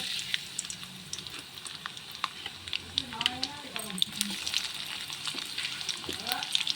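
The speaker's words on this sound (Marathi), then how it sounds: "याच्यात जिरं मोहरी याचा टाकलेलं आहे तडतड होते" Cumin and mustard seeds crackle and sizzle in hot oil during tempering, a steady close spatter running underneath a person talking.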